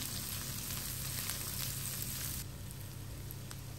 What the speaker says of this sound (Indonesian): Sisa minyak menggoreng terinya kita pakai buat menumis bawang merah dan bawang putih ditumis dulu sampai harum